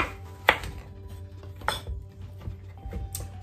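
A knife chops a large zucchini into quarters on a cutting board, making a few sharp, distinct knocks spaced irregularly, close and fairly crisp against a quiet kitchen background, with nobody speaking.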